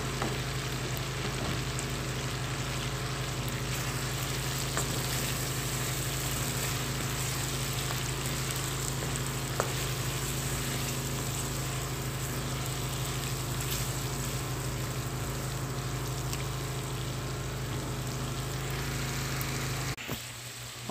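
Garlic, ginger and green chili paste frying in oil in a karahi for street-style charsi chicken, a steady loud hiss and sizzle holding without a break for about twenty seconds, with faint stirring scrapes.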